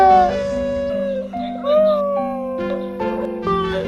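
Several dogs howl in long, wavering, overlapping tones, rising and falling together for a few seconds without any talking.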